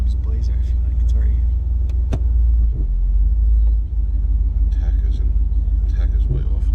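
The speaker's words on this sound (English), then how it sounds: "the idle's way too high" Chevy IROC-Z engine idling too high, a steady low rumble close by, with voices talking over it and a few small clicks and knocks.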